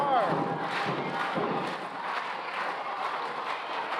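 A packed wrestling crowd at a Wildfire Championship Wrestling homecoming show roars steadily after a near-fall pin kick-out, a dense, continuous wash of cheering and shouting with no break.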